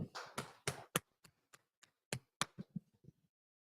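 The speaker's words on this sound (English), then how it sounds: "Let's clap it up" Small group clapping at a religious class gathering: a few scattered, uneven claps, some overlapping at first, then sparse isolated claps trailing off in a quiet room.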